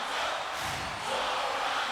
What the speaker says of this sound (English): the crowd is chanting for Toronto to make the stop